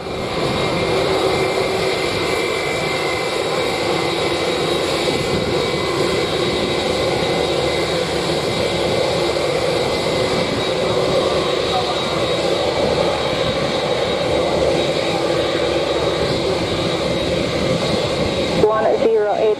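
A Boeing 737-800 jet at Montego Bay airport in Jamaica on a sunny day, its engines giving a loud, steady roar that holds for the whole stretch with no break.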